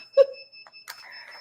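An electronic alarm goes off during a sublimation craft session, giving a few short bright chirping beeps close by against a quiet room.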